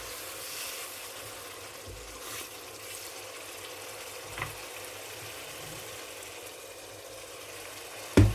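Duck meat and masala sizzle in a hot pan while being stirred with care, a steady, soft frying hiss with faint scraping and a sharp clatter near the end.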